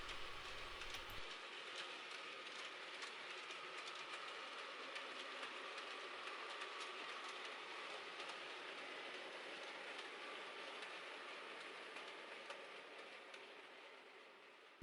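A freight train with a brake van in the middle rumbles steadily past, its wagons clattering and wheels grinding over the rails for a long stretch before the noise begins to ease.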